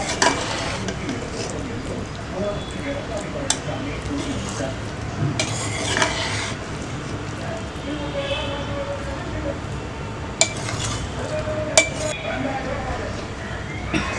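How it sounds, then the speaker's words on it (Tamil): Chicken kola biryani is stirred in a pot with a spoon, giving a continuous scraping, sizzling clatter with occasional sharp clinks of metal, while someone talks over it. "பாருங்கள், அப்படியே கொஞ்சமாக கலக்கி விடுங்க."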